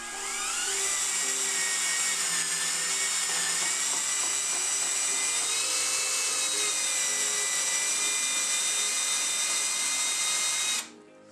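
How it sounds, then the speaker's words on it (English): Power drill spinning a manual can sealer for food cans, a loud high-pitched continuous whine that holds steady for about ten seconds before cutting off abruptly. "When using a power drill, it's important not to rotate too many times and not to use the fastest setting."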